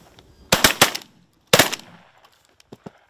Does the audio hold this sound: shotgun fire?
yes